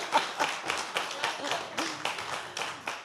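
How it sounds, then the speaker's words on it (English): A few hands clapping in a slow, uneven rhythm, quiet and close, at a poetry book event, with no other sound. "Here's a big round of applause and much love for you"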